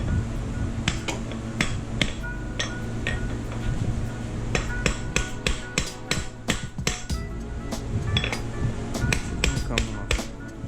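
Rapid metallic hammer strikes ring out in an irregular series during a water pump replacement on a Buick Encore 1.4L Ecotec engine, over a steady background hum, close by and sharp, without speech.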